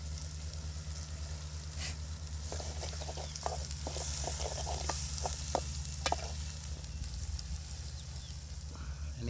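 Fresh fish coated in masala sizzles in a pan while being stirred, a steady frying hiss with intermittent scraping and clinking of the spoon, close and moderately quiet, with no talk.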